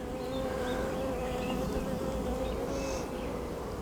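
Honeybees buzzing steadily around an open hive during an inspection, a dense, continuous drone of many insects close by with a sustained hum throughout.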